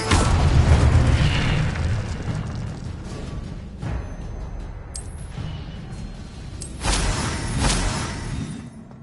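The Incendio fire spell is cast in Hogwarts Legacy, releasing a loud whooshing burst of flame that rolls and crackles, with further fiery bursts swelling later.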